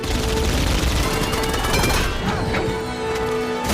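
Heavy, continuous minigun fire roars through a battle scene in the 2014 film Captain America: The Winter Soldier, a dense, loud barrage with crashing impacts layered over it.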